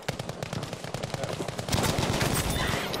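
Rapid automatic gunfire in Battlefield V, a dense run of close shots that grows louder and more continuous partway through, with no talking over it.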